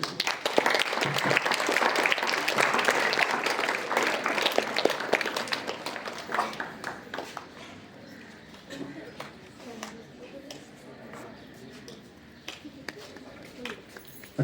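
Audience at a school speech and student honours ceremony breaking into loud clapping that builds, then thins into scattered claps and fades over several seconds.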